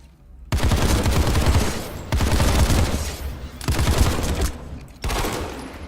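Rapid automatic gunfire from a TR Infiltrator weapon in a video game, loud dense bursts of shots in three or four sustained strings separated by brief gaps, fired from the hip.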